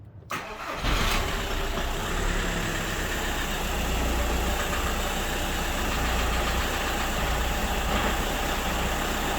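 A Seat Leon engine cranks briefly and fires after a thermostat replacement, then settles into a steady, fairly loud idle that runs on evenly for several seconds, heard alone without talking.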